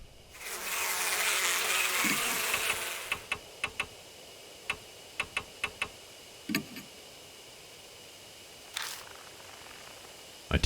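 Bees buzzing around a hive in the video game Death Mark, a loud dense buzzing swarm for the first few seconds that fades out, followed by scattered sharp ticking clicks and an occasional short burst.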